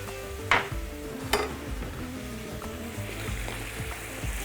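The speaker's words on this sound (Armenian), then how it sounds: "Թեթևակի խառնում ենք սա" Beef sauce with hot broth is gently stirred in a pan, bubbling and sizzling softly under a couple of sharp scrapes from a utensil against the metal, all close and steady without speech.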